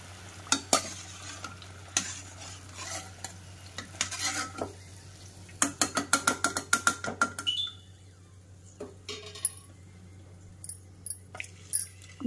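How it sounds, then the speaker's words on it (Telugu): Fried mini badusha dropped into sugar syrup and stirred, with busy metallic clinks and scrapes of a spoon against a pot, dense bursts of stirring and clatter close up, no talking. "దీన్ని తీసి నేను షుగర్ సిరప్లో వేసేస్తున్నాను"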